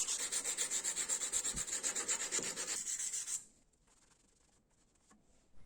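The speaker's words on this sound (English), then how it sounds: "Blade sanding." Hand sanding a small pocket knife blade with quick, rapid back-and-forth rubbing strokes up close, a steady hissing scrub that stops abruptly partway through, leaving near silence with a few faint touches.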